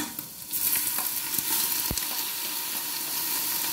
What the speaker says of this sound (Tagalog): Lahat itong mga sahog natin ay ibigisa na natin ito. At ang isusunod natin ay ang tripa.